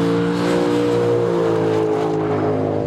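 A Lexus RC F's naturally aspirated V8, rated at 467 horsepower, holds a loud, close, steady rev, its deep harmonic drone sustained throughout without any talking.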